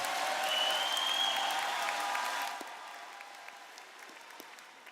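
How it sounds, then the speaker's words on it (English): A graduation audience at Fort Zumwalt North High School's 2024 ceremony bursts into loud applause with a whistle or two, then after a few seconds it thins to scattered, fading claps in a large hall. "You can clap, it's okay."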